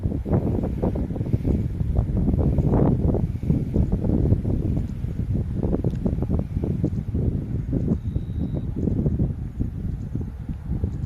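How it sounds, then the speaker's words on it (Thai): Strong wind blows outdoors under a cloudy sky, buffeting constantly in a dense, rumbling roar with no letup. "ลมแรงมากครับ"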